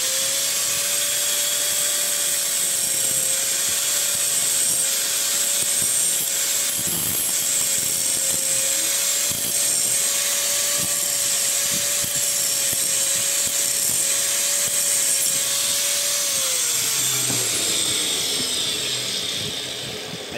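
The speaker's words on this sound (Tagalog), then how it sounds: "Wala po tayong barena, grinder muna." An angle grinder grinds down a part during a washing machine repair, a steady, close, high-pitched whine that holds for about seventeen seconds before the motor winds down.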